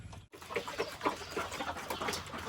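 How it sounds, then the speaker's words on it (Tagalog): Pet chickens fed near an okra garden cluck and squawk in a busy jumble of short calls, fairly close and continuous over a low background. "pakainin natin yung mga alaga nating mga manok na nag-iingay"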